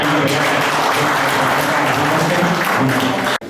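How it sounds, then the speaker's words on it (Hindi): A crowd at a Hindi kavi sammelan in Hoshangabad claps loudly and steadily, a thick wash of applause that runs for a few seconds with faint voices beneath before cutting off abruptly. "भाई सुभाष यादव आपसे जोरदार तालियों का आग्रह कर रहा हूँ"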